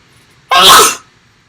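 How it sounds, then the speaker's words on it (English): A single loud, sudden sneeze, close up, bursting out and fading within half a second. "trying to hold back a sneeze is almost impossible"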